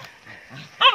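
Dogs on a rural Filipino property after a flood give a short, loud bark or yelp near the end, preceded by faint whimpering and soft animal noises.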